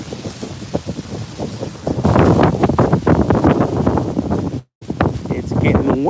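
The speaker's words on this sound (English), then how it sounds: "It's getting windy." Wind buffets the microphone in strong, rumbling gusts during an outdoor nature walk while a person talks over it, with a brief cut-out near the end.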